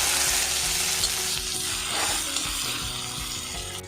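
Chopped big onion dropped into hot oil already crackling with mustard seeds and curry leaves, sizzling loudly and steadily, with stirring scrapes in a pan, then easing slightly.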